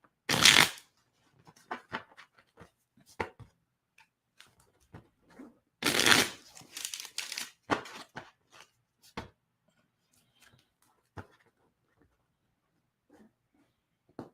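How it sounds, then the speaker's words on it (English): Playing cards are shuffled close by in a quiet room: two bursts of riffling, one at the start and a longer one midway, followed by scattered soft taps and flicks as the deck is handled. "They're shuffling the cards."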